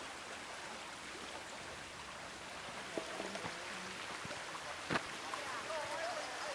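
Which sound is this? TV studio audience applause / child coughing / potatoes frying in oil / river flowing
river flowing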